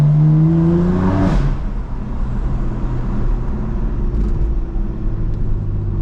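A BMW M4 drives along with a loud, steady low engine drone and road rumble close inside the cabin, its pitch stepping down early as the revs drop, then holding an even cruising tone.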